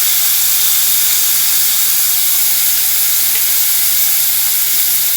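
Onion and tomato sprinkled with turmeric sauté in a pan for a paneer masala dosa filling, giving a steady, loud, close sizzle that holds evenly throughout with no talking.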